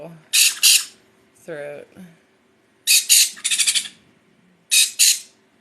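Baby sun conures squawk and chirp while being hand-fed, giving repeated bursts of sharp, loud, close calls in clusters, with a person talking briefly between them.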